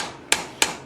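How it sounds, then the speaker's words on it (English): Two sharp hammer taps on a heated railroad spike over an anvil, patting down its spine, about 0.3 seconds apart, close and fairly crisp with no talking. "So we're going to take and pat down the spine just a little bit"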